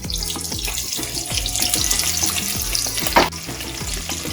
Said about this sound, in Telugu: ఈ ఉల్లిపాయలు చక్కగా వేగనివ్వండి.